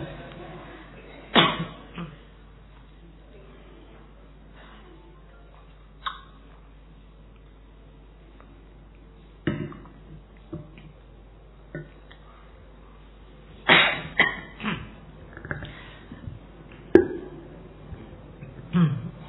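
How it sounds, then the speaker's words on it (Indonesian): Several isolated coughs sound close by in a quiet room during a philosophy lecture, scattered bursts separated by near silence. "Batuk."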